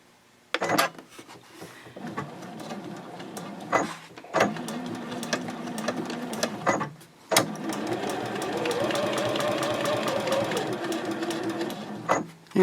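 A sewing machine stitches a diagonal seam on a fold-flat project bag for knitting and crochet, running in several close bursts of steady whirring broken by short clicks and pauses, with no talking.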